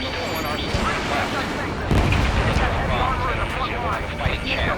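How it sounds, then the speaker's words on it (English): A loud explosion booms through a dense Ace Combat 7 air battle, with continuous gunfire and jet roar around it and voices talking over the noise. "An explosion!"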